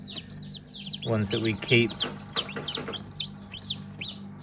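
A high-quality pen of hens clucks and chirps close by, with busy, overlapping calls and a brief burst of louder clucking in the middle, while someone talks briefly over them.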